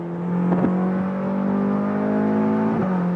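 A Ferrari sports car engine revs steadily in a film scene, a loud sustained tone with a couple of quick throttle blips, no voices.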